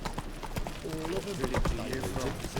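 Roach the horse's hooves clip-clop steadily at a walking pace in The Witcher 3, with a voice talking over the footfalls and light ambient game sound beneath.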